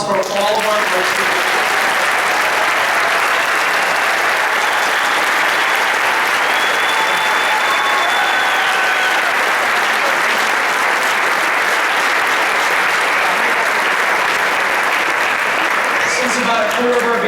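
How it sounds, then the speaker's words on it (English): Sustained audience applause in a stadium for a high school marching band, steady broadband clapping at constant loudness through the whole stretch, with a faint voice near the start. "Could we have a round of applause for all of our folks?"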